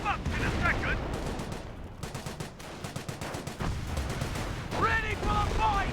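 Rifle grenades exploding amid rattling gunfire in the Company of Heroes WWII strategy game, a busy volley of sharp bangs and machine-gun bursts with in-game voices shouting over the battle.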